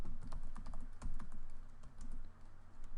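Someone types a short command on a computer keyboard, giving quick, close, uneven key clicks over a low background hum, with no talking.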